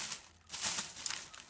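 Plastic peach rings candy wrapper crinkling in hand, a short, close burst of soft rustling and crackle with no talk.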